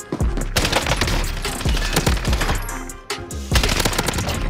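Rapid bursts of automatic gunfire from the video game Warzone, loud and close, several volleys rattling off with brief gaps between them.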